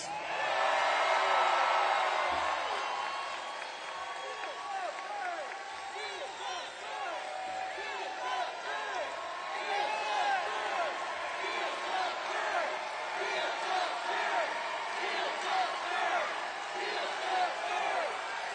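A large crowd at a political rally in Detroit cheers, whoops and claps throughout, a broad roar that swells and lingers, with voices talking over it.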